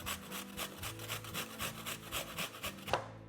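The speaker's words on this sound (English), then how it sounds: "The easiest way to do that is grate it on a box grater" An onion is grated quickly on a box grater, producing even, rhythmic rasping strokes, about two per second, close and moderately loud, ending with a brief knock.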